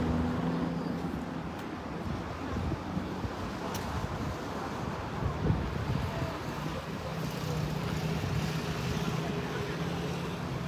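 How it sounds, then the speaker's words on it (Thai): Small cruise tour boat on a lake near Lugano, Switzerland, heard as a steady low motor drone with broadband water and wind rush throughout, fairly close and continuous, with no clear talk. "อันนี้เป็นเรือครุยสำหรับ"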